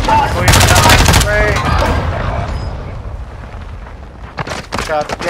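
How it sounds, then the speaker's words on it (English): Shotgun blasts in a battle royale video game, several loud bursts in the opening seconds with softer shots trailing near the end, while a voice talks over the action. "Shotgun na naman."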